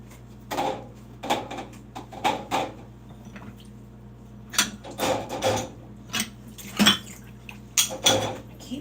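Dishes, pans and cutlery clatter in a home kitchen while they are gathered up for washing after baking chocolate protein brownie bites, in irregular bursts of clinks and knocks, close and moderately loud, with no talking.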